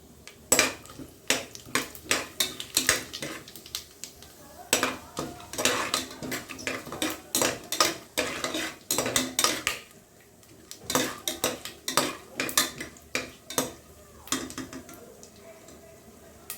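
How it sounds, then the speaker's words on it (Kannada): Garam masala frying in hot oil in a cooker while being stirred, with a spoon repeatedly scraping and clinking against the metal pot in quick, irregular bursts and a faint sizzle underneath. "ಎಣ್ಣೆ ಕಾಯ್ದಿದೆ ಇದು ಗರಂ ಮಸಾಲ ತೊಗೊಂಡಿದ್ವಲ್ಲ ಅದನ್ನು ಹಾಕೊಳ್ತಾ ಇದ್ದೀನಿ ಸ್ವಲ್ಪ ಫ್ರೈ ಮಾಡ್ಕೋಬೇಕು"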